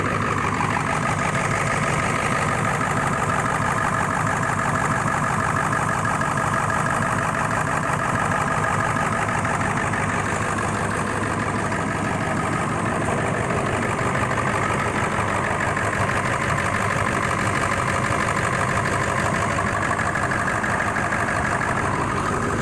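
A 2000 Ford F-350 pickup's 7.3-litre diesel engine, which has a loss-of-power fault, idles steadily for a long stretch, an even close-up rumble with a faint ticking texture and no talking.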